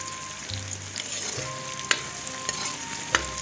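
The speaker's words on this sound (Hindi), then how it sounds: "प्याज हमारा फ्राई हो गया," Onions frying in a pan and being stirred, a steady close sizzle broken by a few sharp scrapes and clinks of the spoon against the pan, with no talk.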